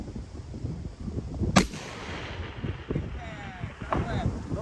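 A single sharp crack from a precision rifle firing at long range, with wind noise rushing over the microphone around it.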